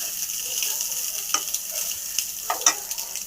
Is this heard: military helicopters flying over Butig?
no